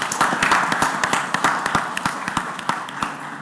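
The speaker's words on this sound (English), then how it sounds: "I hope everyone join me in a round of applause" Audience applause at a Tuscaloosa city council meeting: a steady round of clapping from a modest crowd, sharp individual claps standing out, sustained for several seconds and gradually thinning.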